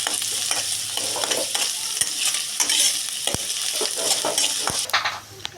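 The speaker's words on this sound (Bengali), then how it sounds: "পেঁয়াজ কুচি দেওয়া হলো, এটাকে 2 মিনিট ভাজতে হবে।" Chopped onions sizzle and fry steadily in a pan, with a continuous bright crackle broken by occasional stirring scrapes and light metallic clinks from the utensil, close and fairly loud.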